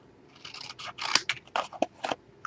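Scissors snip paper into angled cuts to form a pocket for a mini album page, with several crisp, close cutting strokes in quick irregular succession against quiet background.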